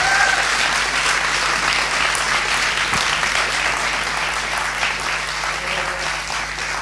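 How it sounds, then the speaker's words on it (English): Dense, steady applause from an audience in a room at an inspirational evening event fills the whole stretch, loud and continuous with a faint low hum beneath and a single sharp knock near the middle. "Everybody in the room should give everybody there a round of applause right now"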